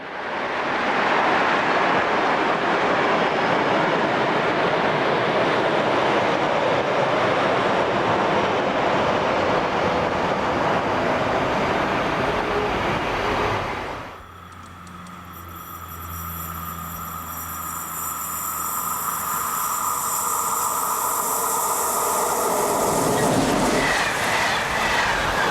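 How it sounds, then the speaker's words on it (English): An ÖBB class 1042 electric locomotive pulls a train into Prinzersdorf station on Austria's Westbahn main line, a loud steady rumble of wheels and carriages that drops suddenly midway and then builds again with rail clatter and high squeals. "Here number 1042-021 enters the station at Prinzersdorf on the Westbahn main line between St. Pölten and Linz"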